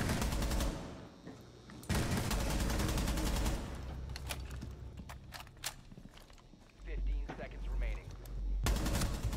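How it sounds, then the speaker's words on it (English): Gunfire in a multiplayer video game match: loud sustained bursts of automatic fire start and stop, separated by sharp single shots and quieter gaps with footsteps and movement, and a final burst resumes at the end. "can you hear us shooting over here?"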